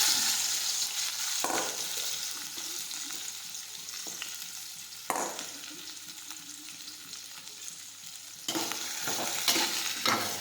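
Chopped okra fries in hot oil with mustard seeds, cumin and asafoetida, a steady close sizzle broken by several stirring clatters and bursts of louder spitting.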